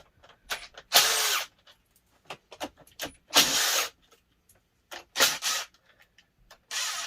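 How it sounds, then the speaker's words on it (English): An impact driver on low speed unscrews bolts from batteries in a 48-volt solar power system, with short loud buzzing bursts and rattly hammering, separated by pauses and small clicks of handling, close up. "You can use the impact driver if you put it on low speed."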